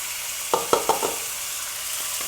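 Ground beef hits a hot oiled pan for chili, with a steady hissing sizzle and a few clustered scrapes and knocks as the meat is broken up, close and fairly quiet.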